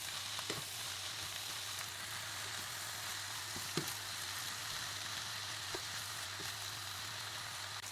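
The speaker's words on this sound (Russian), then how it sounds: "Хорошенько вымешиваем соус." Noodles stirred into sauce in a pan give a faint, continuous sizzle with occasional soft clicks and scrapes, heard close and steady with no voices.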